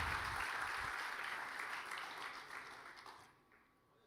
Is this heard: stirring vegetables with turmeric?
no